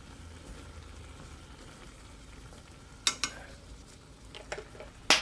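Korean ramen stew with meat being stirred in a pot, a quiet low bubbling bed broken by a few sharp utensil scrapes and clinks near the end, no one talking.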